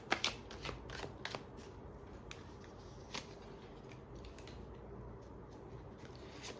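Tarot cards shuffled by hand, a quick run of crisp riffling flicks and slaps at the start, then sparser soft card taps in a quiet room.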